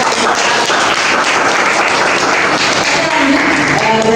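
Applause from an audience at a public speaking class session, a steady dense wash of clapping lasting about four seconds, fairly loud and close, with voices faintly mixed in.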